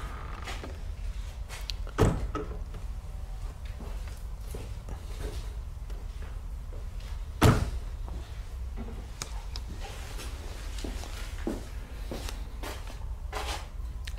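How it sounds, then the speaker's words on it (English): Door closing in an old barracks building during a paranormal investigation, two sharp knocks and thuds standing out over a low, shuffling room background with faint scattered clicks and movement. "I'm gonna close this door."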